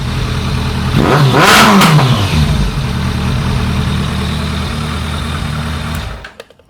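A 2001 Kawasaki ZRX1200R carbureted motorcycle engine revs up sharply and falls back, sounding rough and breaking up under higher throttle, then settles to a steady uneven idle before cutting off at the end; loud and close, with no talk.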